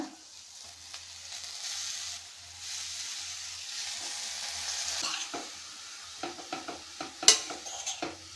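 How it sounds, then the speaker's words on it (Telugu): Green chickpea leaves sizzle and fry in oil with onions in a pan, a steady close hiss while a spoon stirs, scraping and clinking against the pan more often toward the end. "శనగాకు వేసాక ఈవెన్గా కలుపుకోవాలి. నూనెలో ఫ్రై చేయాలి."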